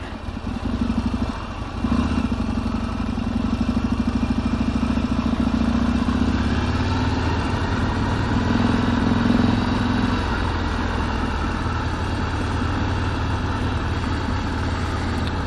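A Harley-Davidson XR1200 motorcycle engine running close up, louder than a stock Roadster: a loud, continuous, rough rumble with rapid firing pulses that holds steady with slight rises in revs, and no talking.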